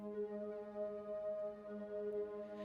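A dub chord from a Zebra synth preset played dry with no effects, one soft sustained tone holding steady and quiet throughout, alone with no voices.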